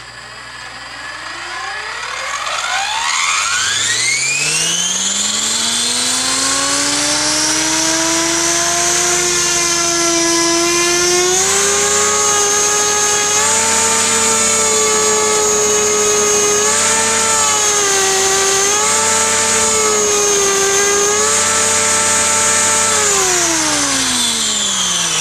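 An Align T500 helicopter tail servo under bench test whines steadily and loudly, rising in pitch as it spins up, holding a sustained tone with slight wavering, then easing down near the end, alone with no talk.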